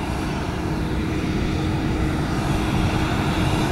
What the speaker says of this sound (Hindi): अमेरिकी राष्ट्रपति बराक ओबामा और उनकी पत्नी अब थोड़ी ही देर में इस विशेष विमान से उड़ान भरेंगे